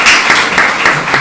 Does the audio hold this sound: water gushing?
no